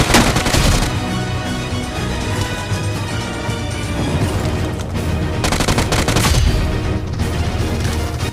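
Gunfire in a battle royale video game rings out as loud, rapid automatic bursts and dense volleys that continue nearly without pause.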